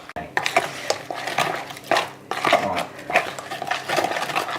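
A spoon stirs a thin flour batter in a mixing bowl, making a close run of scraping and clinking strokes in an uneven rhythm, with no talking.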